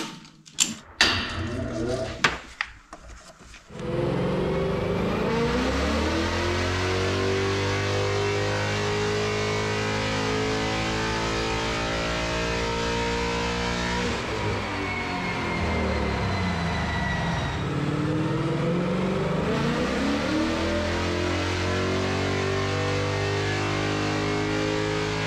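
A 2020 Ford Mustang with bolt-on modifications, running on pump gas, roars on a dyno after a few brief clunks. A long, loud pull climbs and holds near full throttle for about twenty seconds with rising engine tones, and voices speak early on.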